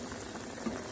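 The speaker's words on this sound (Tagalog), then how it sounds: "So, pakuluin natin siya mga friendship" Kimchi stew simmering in a pot while the meat softens, a steady close bubbling hiss with no voices over it.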